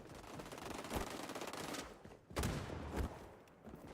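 Automatic AK rifle bursts in the video game XDefiant, two quick rattling volleys at moderate distance, fairly faint, with a short gap between them.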